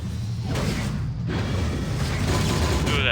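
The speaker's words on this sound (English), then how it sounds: "Ooh, that missile barrage" Missile barrage in the mobile game Marvel Future Fight: a continuous dense roar of launches and rumbling impacts with mechanical clanks, loud and steady throughout.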